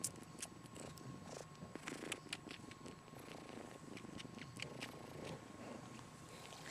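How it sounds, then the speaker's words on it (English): A tiny kitten purring while nursing from a dog, a soft, faint rumbling purr with small suckling and rustling sounds close to the microphone, no voices. "Listen to her purr."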